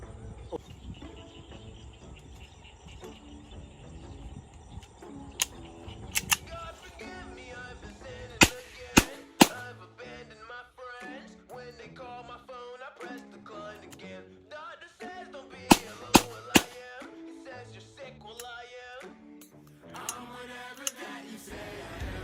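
A SIG Sauer P320 M18 blank gun fired in an open rice field: a handful of sharp, loud bangs spread across the stretch, some in quick pairs or triples, over a steady tonal background.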